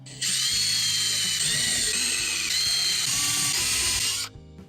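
A power drill bores holes for wooden dowels at an allotment, one long continuous high whine lasting about four seconds, close and loud, then it stops abruptly.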